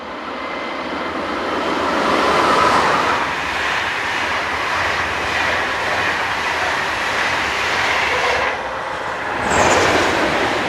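Locomotive 101027 hauls the Salzburg to Berlin service past on a busy main line, a loud sustained rumble and rush of rolling wagons with rail noise swelling and holding for the whole passage.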